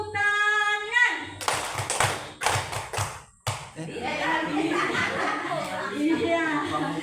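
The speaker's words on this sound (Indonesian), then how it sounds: "3 kali tepuk tangan." Several bursts of hand clapping in a classroom-style group setting, loud and close, with a lead voice before them and talk with light laughter after.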